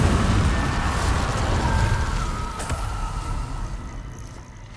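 A fiery Incendio spell cast in Hogwarts Legacy makes a roaring rush of flame and low rumble that starts loud and slowly fades, with a brief crackle midway and no talk.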